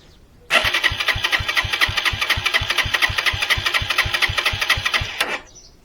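Lifan King motorcycle engine idles with a steady, even thumping beat for about five seconds, then cuts out abruptly when the side stand is lowered, leaving near silence.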